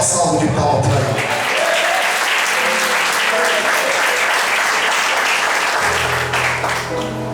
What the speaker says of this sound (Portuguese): Só tem que dar uma salva de palmas para Ele.